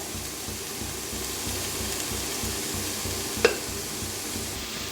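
Shredded cabbage frying in oil in a pan, a steady close sizzle under repeated stirring scrapes, with one sharp clink of a utensil partway through and no voices.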